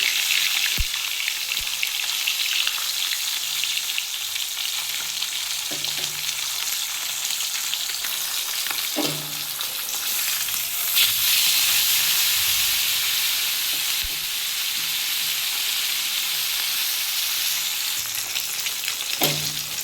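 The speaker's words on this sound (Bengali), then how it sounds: "আমি মাছের মাথাটা দিয়ে দিয়েছি হাফ মাথা এটা ভালো করে একটু ভেজে নেবো" Steady loud sizzling of a fish head frying in hot oil runs throughout, with occasional clinks and stirring scrapes, no voices.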